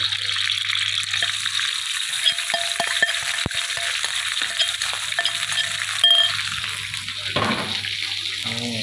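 Curry paste stir-fried in a pan for spicy Thai khua kling beef gives a steady hiss and sizzle, with soft scraping strokes and an occasional clink, plus a louder rush toward the end.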